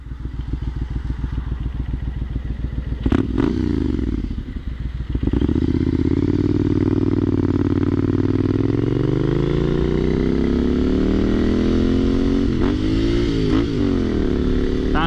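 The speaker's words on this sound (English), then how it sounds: "That aero exhaust just sounds amazing." A Triumph Scrambler 900 motorcycle with a loud aftermarket exhaust runs nearby, a deep throaty rumble with a brief dip and a couple of blips of the throttle.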